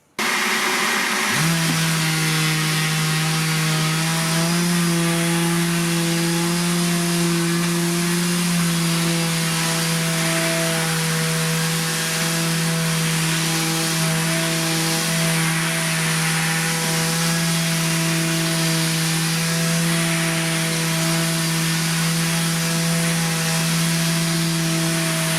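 A Makita 18V cordless sheet sander, model DBO380, runs steadily on a wooden board, a loud continuous motor hum with a strong steady tone and a rough abrasive hiss, starting abruptly and holding for the full length.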